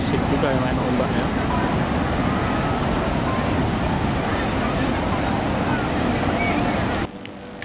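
Ocean surf at Parangtritis beach in Jogja, a dense, continuous roar of waves with wind buffeting the microphone that runs almost unbroken before dropping off abruptly near the end.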